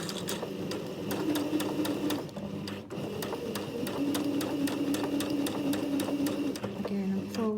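A sewing machine runs ease stitching around a sleeve, following the fabric edge with a rapid, even needle clatter that carries steadily throughout, close and continuous apart from a brief dip partway through.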